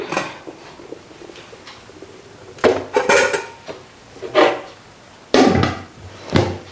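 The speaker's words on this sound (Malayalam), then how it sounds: "നമ്മുടെ അരി തിളച്ചിട്ടുണ്ട് എടുത്ത് റൈസ് കുക്കറിലേക്ക് വയ്ക്കാം" A pot of boiled rice is lifted and set into a rice cooker, giving a few loud metallic clanks and thuds spaced across a quiet kitchen, with faint bird cooing in the background.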